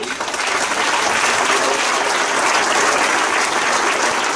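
Dense, steady applause from a crowd at a ceremony marking the 70th anniversary of Costa Rica's abolition of the army, filling the moment without a break.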